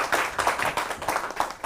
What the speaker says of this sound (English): let us give a big round of applause to Kaushal Mishra